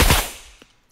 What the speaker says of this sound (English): We can even shoot from this position over here